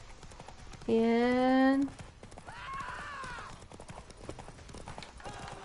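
Roach the horse gallops in The Witcher 3, a rapid clip-clop of hooves running through a chase, joined by a sharp whinny and someone talking over the game audio.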